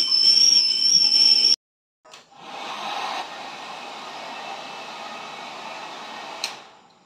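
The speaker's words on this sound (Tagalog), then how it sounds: "Steam from a kettle is called gas." A kettle whistles shrilly with steady steam hiss, then stops abruptly; after a pause, a broad rushing blow like a hair dryer runs steadily.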